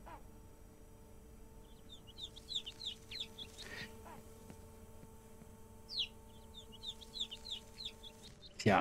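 Chickens cluck in a Ranch Simulator farm game, faint bursts of clucking in two clusters over a quiet hum, with a little talk.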